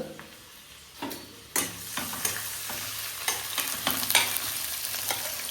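Green chillies and chopped onions hit hot spiced oil for a bagara tempering, crackling and sizzling while a spoon stirs and scrapes the pan in irregular knocks. The sizzle builds steadily and stays close.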